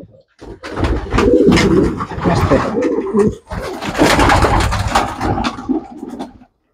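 Homing pigeons coo in a steady, overlapping low murmur close by, with a brief spoken voice partway through.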